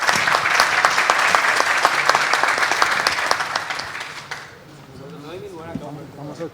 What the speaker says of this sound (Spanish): Muy bien, fuerte aplauso.